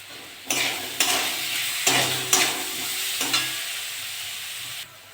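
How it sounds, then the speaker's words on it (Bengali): Elephant foot yam fries in a pan with turmeric and salt, giving a steady close sizzle broken by several sharp clatters and scrapes as the pieces are stirred, then stopping abruptly near the end. "ওলটা ভাজা ভাজা হয়ে গেছে"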